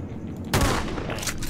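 Video game gunfire aimed at an enemy called the Poop Killer: a loud, close burst of rapid shots erupts midway and keeps rattling on to the end, with no talking over it.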